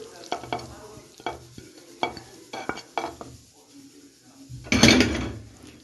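Chicken filling being stirred into béchamel sauce in a pot, several soft scraping stirs in an irregular rhythm, followed by a louder wet scrape near the end, close and fairly quiet.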